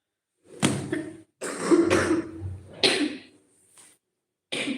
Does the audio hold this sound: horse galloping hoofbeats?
no